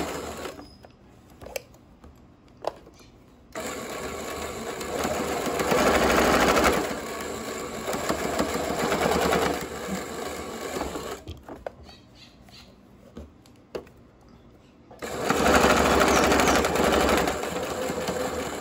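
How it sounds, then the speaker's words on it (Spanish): A sewing machine topstitches the pocket of a pair of fabric shorts, running in two long steady bursts with brief pauses between, loud and close with no talking. "Ahora comienzo a hacerle el pespunte."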